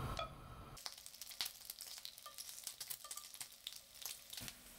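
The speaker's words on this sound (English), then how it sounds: "Also cut the fat into chunks for cooking. Put them in a pan over medium heat." Chunks of beef fat melt over medium heat in a pan with a faint, crackling sizzle that carries scattered small pops and clicks, after a brief louder burst at the very start.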